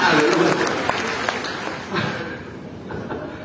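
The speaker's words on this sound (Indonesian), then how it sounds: "Tepuk tangan yang paling meriah dulu buat Tuhan" Congregation in a church service applauding together, a dense burst of clapping that fades gradually with faint voices mixed in.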